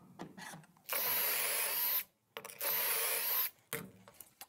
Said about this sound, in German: Stück fest spannen und können jetzt sofort loslegen mit dem Bohren